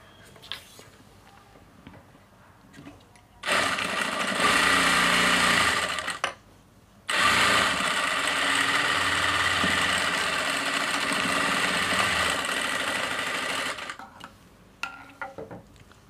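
Sewing machine stitching a straight seam along the side pocket of a pair of trousers, three fabric layers held together; two loud sustained runs of motor whirr, about three and seven seconds long, separated by a brief pause, with quiet handling noise before and after.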